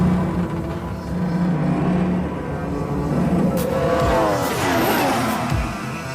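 A Red Bull Formula One race car on a virtual lap braking hard downhill from high speed into a sharp right-hand corner. A loud, close engine roar sweeps down and back up through gear changes, with some tire noise.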